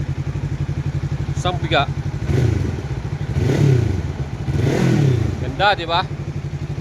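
A new Benelli Falcon X400, a 400cc two-cylinder motorcycle, idles with a steady throb and is revved in three swelling blips, while someone talks over it nearby at a dealership.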